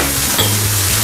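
Chicken liver hits a hot pan and sizzles loudly and steadily up close, with a brief stir, for a creamy chicken liver dish; nobody speaks.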